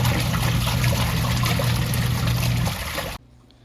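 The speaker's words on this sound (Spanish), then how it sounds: "así es como se está enjuagando con el suavizante para tela" Water churns and splashes steadily inside a Mabe semi-automatic washing machine rinsing clothes with fabric softener, a dense close sloshing that cuts off abruptly near the end, leaving near silence.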